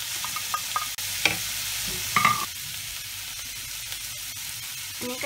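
Ham and bacon stir-fry in a pan with a steady, close sizzle, broken by scraping stirs and small clinks of a utensil against the pan, with no talking.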